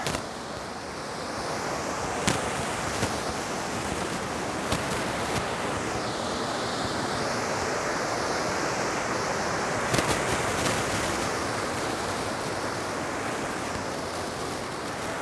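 Rushing water from a waterfall at Ricketts Glen State Park, a steady broadband roar that fills the whole stretch with no pauses, close and constant, with faint rustling bumps over it.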